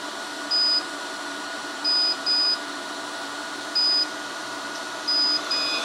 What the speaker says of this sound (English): It's really beeping now.